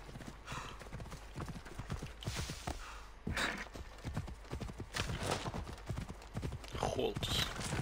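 A horse being called over in the video game Assassin's Creed Odyssey, its hooves clip-clopping at a walking pace close by, with a brief whinny and some quiet ambience.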